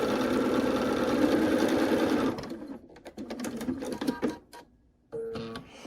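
A sewing machine stitches quilt appliqué shapes with a loud, steady close whir for about two seconds, then slows into choppy, uneven bursts and brief stops as the fabric is worked, ending with another short run.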